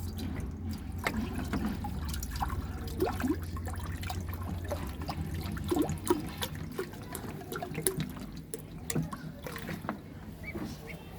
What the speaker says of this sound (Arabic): نبتدي كده نحط لهم الميه